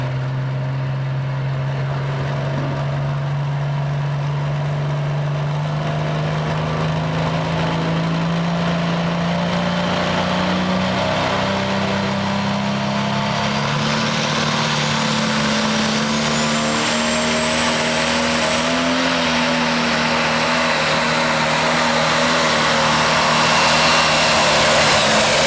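Pro stock pulling tractor roars steadily at a tractor pull, its engine drone climbing slowly in pitch over time, loud and continuous with no talk.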